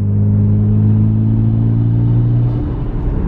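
A loud Nissan Skyline GT-R engine fitted with an HKS racing suction intake drones at steady revs with a throaty intake roar, then the pitch shifts near the end as the throttle changes.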